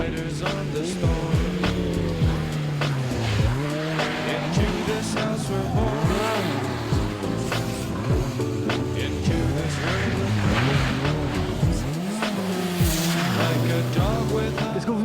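Rally cars at the Legend Boucles à Bastogne, a winter classic rally event in Belgium, slide past with loud revving engines and sweeping pitch changes, one after another up close, alongside crowd noise and people talking.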